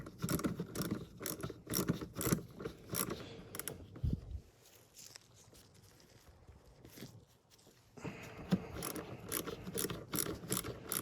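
A ratchet loosens a 10 mm hose clamp on a 2007 Toyota Sienna during a transmission input/output sensor replacement, giving rapid, close clicking bursts that pause midway and then resume.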